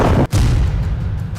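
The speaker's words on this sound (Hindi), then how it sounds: "जो धमाका है उसमें न सिर्फ इजराइल का टैंक फट रहा है" An Israeli tank blows up during the war in Gaza, a loud, deep rumbling boom with a brief cut-off before the heavy low roar resumes and rolls on.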